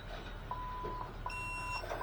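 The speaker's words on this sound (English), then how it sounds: "And then hold that until it beeps." Several thin electronic beeps sound in a row from a 2023 North River 3100SXL Seahawk boat's electronics starting up, short steady tones over a low background hum, one higher tone overlapping near the end.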